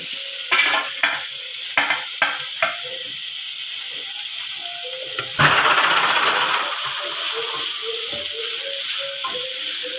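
Drumstick flowers and coconut being stir-fried into a thoran in a pan, a run of sharp spoon taps and scrapes at first, then a louder, continuous sizzle with steady stirring; no voices.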